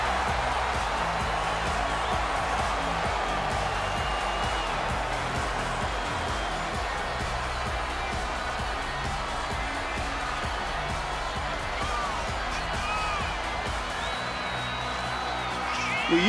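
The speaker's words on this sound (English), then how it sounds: "Listen to that crowd!" Video game arena crowd from a WWE 2K24 women's championship match, a steady loud roar with scattered cheers and whoops running continuously throughout.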